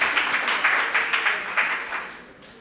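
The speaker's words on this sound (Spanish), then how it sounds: "Otro aplauso para Pablo." A small audience at a talk on brain health claps briefly, the individual claps close together at first, then fading away quickly.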